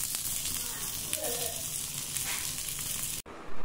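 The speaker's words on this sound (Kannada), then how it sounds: "ಇವಾಗ ಫ್ರೈ ಮಾಡ್ಕೊಬಿಡೋಣ" Semolina-coated fish frying on a hot tawa, a continuous close crackling sizzle with light scraping, ending in a sudden cut.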